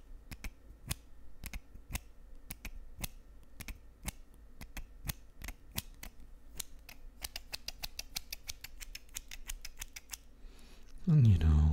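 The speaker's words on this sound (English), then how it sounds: "Cut that fur down to shape" Scissors snip repeatedly while trimming fur, giving a steady run of crisp, close clicks that quicken toward the end, with a soft voice talking throughout in an ASMR setting.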